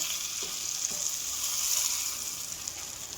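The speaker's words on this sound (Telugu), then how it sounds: "బటర్ మెల్ట్ చేసుకుంటున్నా." Butter melting in a hot pan gives a steady, even sizzle with a bright hiss that holds for a few seconds, with no talking.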